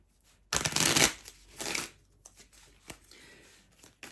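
Angel cards being shuffled by hand: a loud riffle burst near the start, a second shorter one, then faint scattered card taps, close up with no speech.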